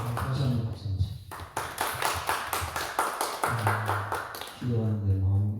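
A congregation at a Korean church's early-morning Holy Week service claps in a quick, rhythmic burst, with voices singing or speaking just before and after.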